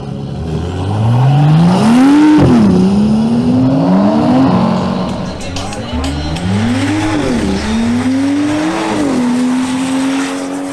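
A BMW M440i accelerating hard through a drag race run, its engine rising in pitch through several gear changes, loud and close with crowd and track noise behind.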